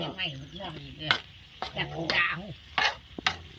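Stir-frying frog meat in a wok: a metal spatula scrapes and clatters against the pan in irregular strokes over a steady sizzle, close and fairly loud.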